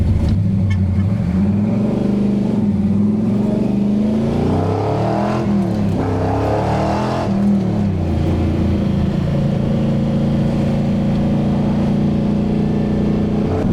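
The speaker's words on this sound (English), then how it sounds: "Highway cruising." A Plymouth Road Runner cruising on the highway, its engine droning loud and steady with a brief rise and fall in pitch midway, and the rumble continuing unbroken throughout.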